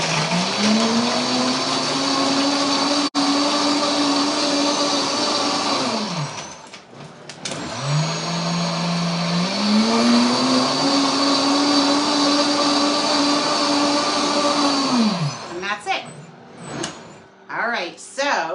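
Princess House dual coffee machine blending a smoothie: a loud, steady motor whine runs for several seconds, drops briefly, then ramps back up into a second long run before cutting off into clatter and handling noises.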